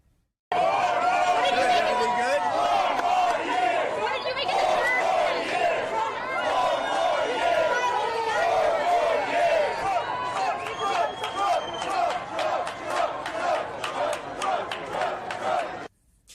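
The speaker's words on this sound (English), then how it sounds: "Harlem Bodega is infamous for the spontaneous Trump crowds that break out into 4 more year chants." A crowd gathered at a Harlem bodega cheers and chants, loud and close, with overlapping voices, shouts and chatter building into rhythmic bursts before stopping abruptly.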